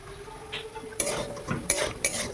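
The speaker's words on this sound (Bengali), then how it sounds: "নাড়াচাড়া করে নেব" A spoon stirs potatoes and fenugreek leaves, spiced with green chilli, turmeric and salt, in a sizzling pan, giving a few close, scraping strokes against the metal over a soft frying hiss, with no talking.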